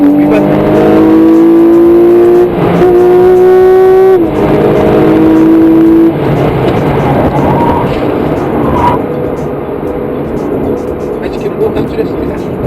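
A Porsche 911 (991) Carrera S engine winds down on a road, its strong tonal drone stepping lower through a few shifts before settling into a quieter, rougher rumble, loud and close throughout.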